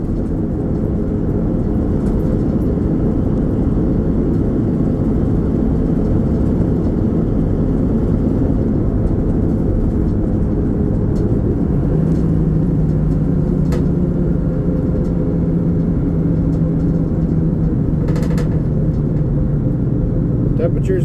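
An old Ford Bronco cruises on the road at about 55 to 60 mph, a loud, steady engine and road rumble dominating throughout, heard from inside the vehicle.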